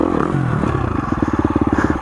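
A 2019 KTM 350 XC-F dirt bike running while ridden through turns, its engine settling into a rapid, steady, pulsing thump close by, with a brief rougher rasp at the start and no talking.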